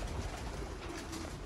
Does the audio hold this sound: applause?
no